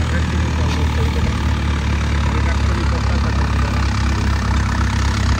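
A small 24 HP tractor pulling a 10-foot cutter runs at a steady idle, its engine a continuous, fairly loud drone with no pauses from start to finish.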